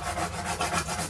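Soft pastel stick rubbed across paper while blending pale blue into yellow, a brief close, dry scratchy friction in quick uneven strokes with no talk.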